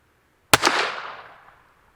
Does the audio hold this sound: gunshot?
yes